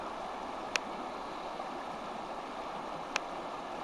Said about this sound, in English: just down here by the creek